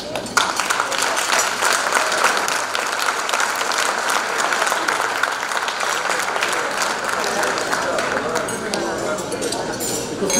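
Applause rolls through a banquet hall at a Macedonian tribute ball, continuous crowd clapping for about ten seconds with faint clinking glassware mixed in.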